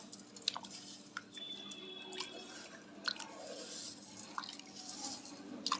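Tamarind is squashed by hand in salty brine, giving soft wet squelches and small drips at irregular intervals, quiet and close against a faint background hum.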